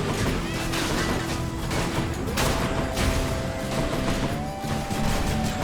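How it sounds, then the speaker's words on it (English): Repeated explosions and crashing impacts in the action video game Hades, a dense, loud barrage of bursts and smashes layered over game music with a sustained tone, continuing for several seconds. "the shield hero can actually block the explosions off"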